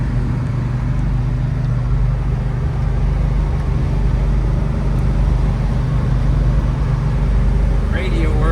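A restored 1966 Pontiac GTO muscle car driving on the road, its steady low engine drone and road rumble running continuously beneath a voice as he talks.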